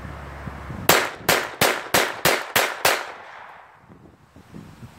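An Ekol Volga blank pistol fires Kaiser blank ammunition in seven sharp, evenly spaced loud bangs, each with a brief ringing tail, followed by fading echoes and quiet.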